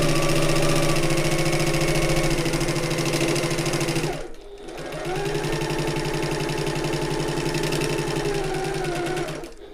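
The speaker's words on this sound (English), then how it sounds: "and then I'm sewing along to the other end." A sewing machine runs a steady, loud stitching drone along a shoulder bag seam, pausing briefly midway before resuming at an even pace.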